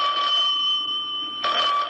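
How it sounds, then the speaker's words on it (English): A telephone rings with a bright electric bell, one long ring followed by the start of a second after a short gap, loud and near in a quiet house. "the phone rang"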